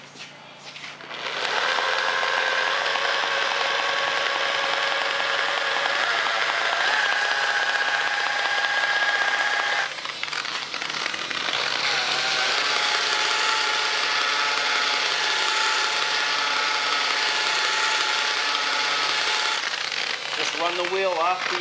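A buffing wheel grinds steadily against Mustang parts being polished, a loud, continuous whine with a brief dip near the middle before it resumes.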